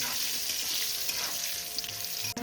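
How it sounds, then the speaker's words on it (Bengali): Potatoes frying in hot oil with a spice tempering and a little salt, giving a continuous close sizzle with faint stirring scrapes and one sharp clink near the end. "এবার আলুটাকে একটু ফোড়নের সাথে একটু ভেজে নেব"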